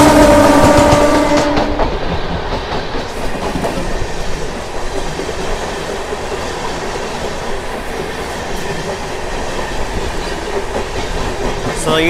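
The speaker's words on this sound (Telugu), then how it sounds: "ఈ ట్రైన్ వచ్చేసి చెన్నై సెంట్రల్ నుంచి హౌరా వెళ్ళే మెయిల్ ఎక్స్ప్రెస్ ట్రైన్ ఇది" The Chennai Central to Howrah Mail Express passes close by, a loud continuous rumble and rattle of rail cars with a brief horn at the start.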